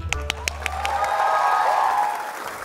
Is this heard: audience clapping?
yes